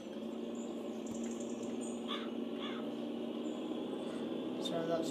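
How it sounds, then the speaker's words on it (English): A crow caws outside, a few short harsh calls heard faintly in the distance, while a person talks over a steady room hum. "that was a crow outside."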